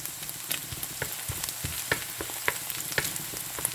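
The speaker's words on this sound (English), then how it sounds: "So saute this one until this will become translucent or slightly golden brown" Red onions sauté in an oil-filled pan for garlic fried rice, a soft continuous sizzle broken by scattered crackles and spoon scrapes, close and fairly quiet.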